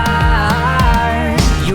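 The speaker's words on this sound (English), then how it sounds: "I introduced some drums and also some like 80s toms," 80s-style tom drum samples in a mix, punchy tuned tom hits falling in pitch, struck in a quick rhythmic pattern of about four hits over a sustained synth and music bed.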